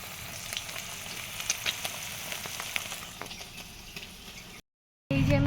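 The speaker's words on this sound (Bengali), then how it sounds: "পনির ভাজা হচ্ছে ওখানে।" Paneer frying in a pan gives a steady, close crackling sizzle with small pops, then cuts out briefly before a louder burst returns at the end.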